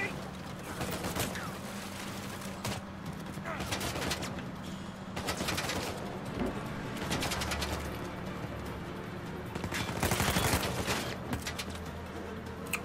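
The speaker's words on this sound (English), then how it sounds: "Where are the guys that are shooting at me?" Enemy gunfire in Uncharted 4 comes in repeated bursts of rapid shots at a middling distance, spread across the clip with steady background noise between volleys.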